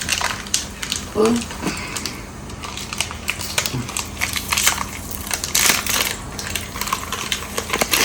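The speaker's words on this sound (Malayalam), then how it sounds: "പാക്കറ്റ് എടുത്ത് പൊട്ടിച്ച്" Crinkly plastic cheese slice packet being torn open and crumpled up close, with rustling crackles and a few sharper snaps over a steady background.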